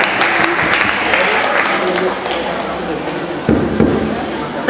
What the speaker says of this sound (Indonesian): silakan kita berikan tepuk tangan kepada Ajeng sebagai Presiden AMSA.